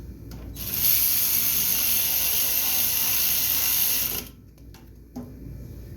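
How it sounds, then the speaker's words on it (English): Ratchet and socket turning bolts on the gas tank of an 8-horsepower Yard Machine front-tine garden tiller: a steady, close rasping whir lasting several seconds, then a few fainter clicks. "Put the ratchet and socket."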